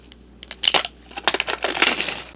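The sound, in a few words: peeling back diamond art kit gem strip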